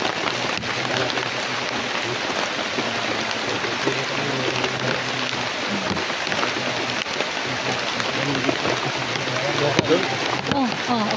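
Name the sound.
heavy rain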